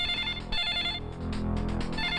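A mobile phone ringtone for an incoming call plays loudly and steadily, a repeating melodic electronic tone with no voices over it.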